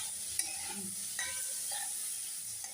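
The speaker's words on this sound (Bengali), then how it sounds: "বিনগুলো দিয়ে দিলাম। মটরশুঁটিগুলো দিয়ে দিলাম। ভালোভাবে নেড়ে নেওয়া হচ্ছে।" Beans and peas being stirred in a frying pan for dalia khichuri, a soft continuous sizzle with a few scraping spoon knocks against the pan, close and steady, no talking.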